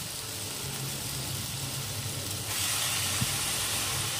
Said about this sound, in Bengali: এখন এই অবস্থাতে আমি এর মধ্যে পালং শাকগুলো দিয়ে দেবো।